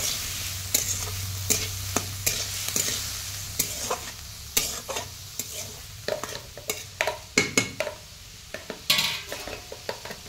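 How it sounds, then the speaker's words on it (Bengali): Vegetable stems tossed with salt and turmeric in a pan: a low sizzle under repeated sharp scrapes and clacks of a spatula against the metal, irregular and close, without speech. "লবণ ও হলুদ ডাঁটির সঙ্গে ভালোভাবে মিশিয়ে 1 থেকে 2 মিনিট এইভাবে নাড়াচাড়া করতে থাকবো"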